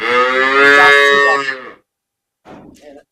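A dairy cow at a cattle sale gives a single long, loud moo up close, followed by a brief quieter vocal sound after a pause.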